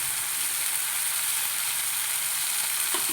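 Ribbon fish frying in a pan of hot oil, giving a steady, loud, continuous sizzle with a bright hiss throughout and no talking.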